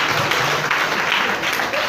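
An audience at a group leaders' pre-workshop session in Gboko, Benue State, breaks into loud, sustained applause, with dense, steady clapping filling the room and no let-up.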